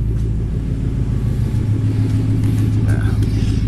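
A 2014 Mustang GT running with no mufflers, keeping its resonators and catalytic converters, settles into a deep, loud rumbling idle that throbs steadily throughout, with voices audible underneath.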